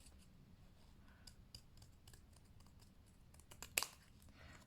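Scissors make quiet, scattered snips while cutting paper pieces for a junk journal folio, with a light rustle of paper in a calm room.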